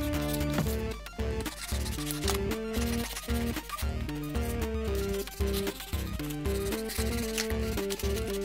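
A blade cuts and chips into ice-effect terrain material for a Planet Hoth model, producing repeated rhythmic scraping and crunching strokes up close at a steady pace, with no talking.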